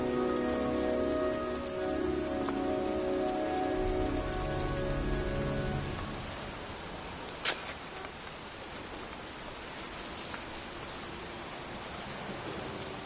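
Rain pours in the video game Heavy Rain as a steady, dense hiss. A low tonal drone underlies it for the first few seconds, then fades, leaving the rain alone with a brief sharp tick midway.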